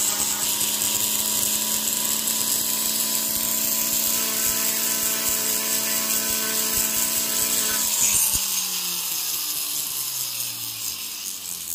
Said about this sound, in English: I am sanding just ever so lightly on some of the gold